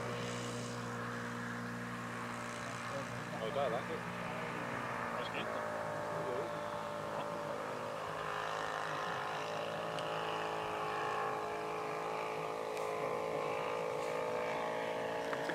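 A model airplane with a Saito engine flies at an outdoor flying day, its engine holding a steady, buzzing drone at moderate distance while people talk nearby.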